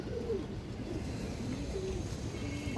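Female pigeon cooing on a pigeon farm, a few soft, low throaty coos spread over a couple of seconds against a steady background murmur of other birds.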